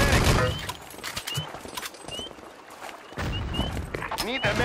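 Gunfire in Wolfenstein: Enemy Territory, with volleys of shots loud at the start, thinning out in the middle, then picking up again, mixed with game effects and a person talking.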